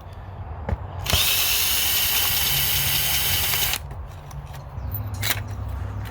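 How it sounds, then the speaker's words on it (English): A power drill backs screws out of an RV porch light fixture in a single loud, whirring burst lasting a few seconds. Quieter handling clicks and taps come before and after it. "It's just held on with 4 simple screws, so we're just going to take off these screws."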